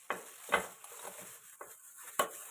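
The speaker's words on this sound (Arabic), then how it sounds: "نقلبها كده." Turnip pickle mixture stirred with a spoon in a bowl, a few separate faint scraping and clinking strokes spaced unevenly against a quiet background.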